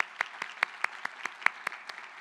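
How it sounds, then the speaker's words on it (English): Sparse, evenly spaced claps ring out one at a time, about ten distinct hand claps in a steady rhythm, close and isolated rather than a full crowd, greeting Dr. Holly Carpenter at a startup conference. "Give her a warm round of applause."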